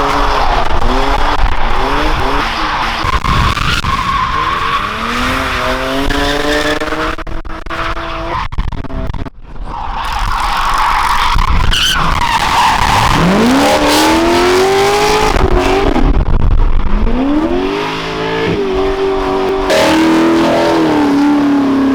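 A V8-swapped BMW E46 skids at an airfield, loud engine revving rising and falling in long sweeping pulls, with tire squeal and brief lifts of the throttle, close and continuous with no talk.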